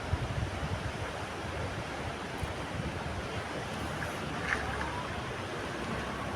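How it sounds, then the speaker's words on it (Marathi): Sea waves break on the shore in a continuous, broad wash of surf with some wind noise. The sound stays steady and fairly loud throughout. "फार सुंदर लाटा फुटलेल्या आहेत"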